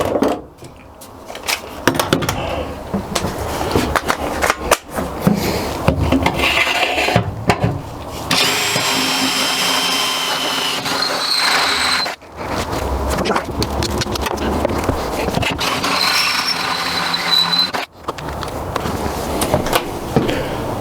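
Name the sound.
drilling hole with drill bit in Mercedes Sprinter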